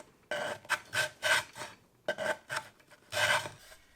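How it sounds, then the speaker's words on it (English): A hand rasp files a rough groove cut in a wooden board, giving close, loud scraping strokes in two quick bursts of rhythmic back-and-forth rasping, separated by a short pause. "That groove ended up being pretty rough, so I refined it with a rasp."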